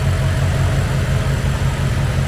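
A rebuilt forged BMW X6M engine idles steadily right after its first start-up, a smooth, continuous low rumble with even mechanical hum and no voices.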